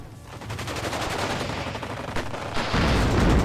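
Tank cannon and small-arms fire in the WARNO wargame battle, a dense continuous barrage of rapid shots that swells louder near the end.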